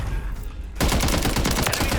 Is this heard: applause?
no